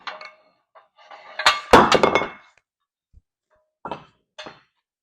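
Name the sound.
metal sockets clinking while searching for one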